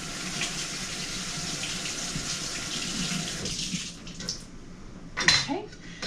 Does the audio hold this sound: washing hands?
yes